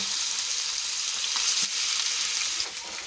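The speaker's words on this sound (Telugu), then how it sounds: "ఇలా ఆయిల్ బాగా వేడైన తర్వాత మనం వచ్చి ఈ ఫిష్ ముక్కల్ని ఒక్కొక్కటిగా వేసుకోవాలి" Masala-coated fish pieces fry in hot oil in a pan with a loud, continuous, close crackling sizzle that holds steady throughout.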